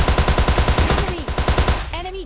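Automatic gunfire in the mobile shooter game PUBG Mobile Lite rattles in a fast, steady burst of rhythmic shots, then trails off into ringing whistles and shell-like clinks near the end.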